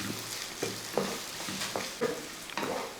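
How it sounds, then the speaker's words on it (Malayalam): Crushed mild red chili powder stirred into a hot pan of oil for Kerala chena (elephant yam) upperi, with a steady sizzle and several soft scraping strokes of a spoon at a near, moderate level. "ഇതേപോലെ ഒന്ന് ഇളക്കി കൊടുക്കുക."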